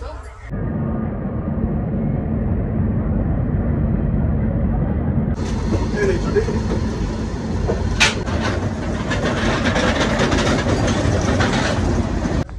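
Howrah-Puri Shatabdi Express pulling out of Howrah station, heard from inside a coach as a steady low rumble that brightens into busier rattling and clatter as it gets moving.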